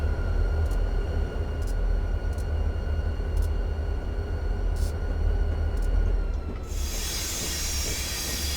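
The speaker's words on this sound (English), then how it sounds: "watch the dynamic brake fans." An Amtrak SDP40F locomotive in Train Simulator rolls on with a constant low rumble and steady hiss of dynamic brake fans, overlaid by faint periodic rail clicks and a brief bright hiss near the end.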